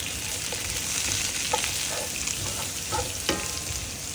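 Onions frying in rendered pork belly fat for binagoongan, a steady close sizzle with a few soft stirring clicks and no voices.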